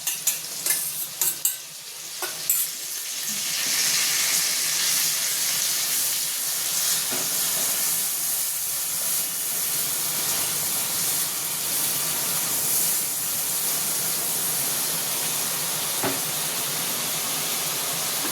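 A spice paste for a Bengali fish curry hits a hot pan and fries with a broad, steady sizzle and hiss, punctuated early by a few clinks and scrapes of stirring, with no voices.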